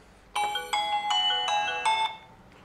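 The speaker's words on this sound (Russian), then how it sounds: "Вибрация включена. Рингтон." A Coolpad 5267 phone plays its ringtone, a bright electronic melody of about five quick repeated chime phrases, close and clear, with no other sounds.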